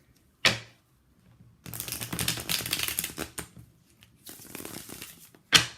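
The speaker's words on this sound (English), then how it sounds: "Just shuffle one more time." Tarot cards shuffled close up in several crisp riffling bursts, separated by short quiet gaps, with a sharp snap at the start and end.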